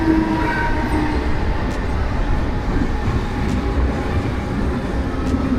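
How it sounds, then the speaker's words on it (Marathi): A crowded Mumbai local train pulls into Govandi station with a loud, continuous low rumble and rattling wheel clatter heard close up from on board. "फायनली आता आपली ट्रेन गोवंडी स्टेशनला अरायव्हिंग होते"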